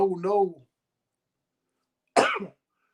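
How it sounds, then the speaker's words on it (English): A single short, harsh cough follows a brief vocal sound, then silence. "I'm coughing"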